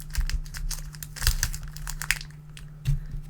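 Crinkling and tearing of a plastic craft-supply packet being pried open, with several sharp crackly bursts close by, alone without talk.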